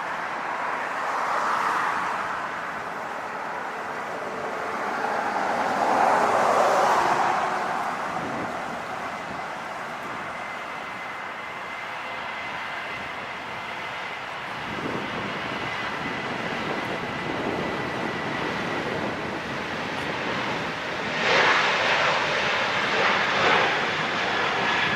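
Jet airliners at LAX throttle up for takeoff, heard from a distance as a broad, rising roar that swells and falls over a long stretch, with steady engine rumble throughout.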